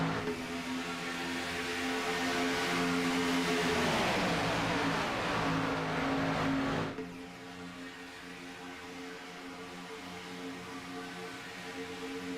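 Oval racing at the OP Grand National, Lou Sassol 175: a pack of stock cars roars steadily on the track with a loud droning engine blend, engine pitch sweeping as cars pass, then the noise dips and continues at a slightly lower level.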